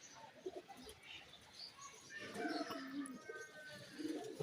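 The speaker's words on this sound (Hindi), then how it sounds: "भाई कबूतर ऊपर भी उड़ रहे हैं" Pigeons on a rooftop being readied for pigeon flying, soft cooing and chirps with faint wing flutters, fairly quiet and distant against light background noise.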